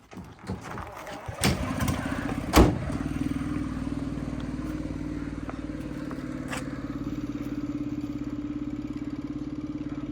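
A motorcycle engine idles steadily with a low, even rumble after a couple of sharp clanks and a brief rev near the start.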